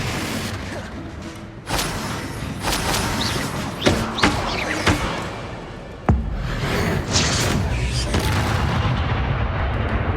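Confringo spell blasts in Hogwarts Legacy combat, booming explosive bursts and whooshes over a dense, loud battle din, with several sharp impacts scattered across it.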